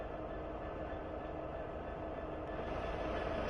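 Steady low rumble of a simulated Union Pacific coal train with two SD70 locomotives and fifty empty coal hoppers starting up in winter weather in Train Sim World 3, continuous diesel drone with no talking.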